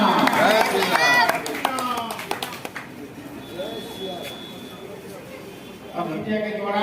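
An audience at a Hanuman Jayanti gathering claps in welcome, a burst of scattered applause early on that thins out, while someone speaks over it and throughout.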